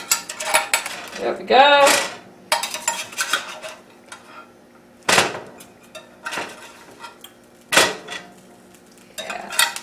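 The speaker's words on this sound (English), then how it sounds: "Looks like I better use a spatula here. Okay. Yeah, kind of stuck to the bottom here." A spatula scrapes and knocks against a pan bottom, prying stuck turkey meatballs loose, with sharp metallic clanks and scraping strokes at irregular intervals, close and loud; a brief voice speaks once.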